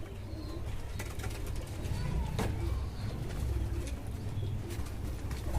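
Pigeons coo softly in a loft, low repeated calls under a busy background with scattered sharp knocks and clatter.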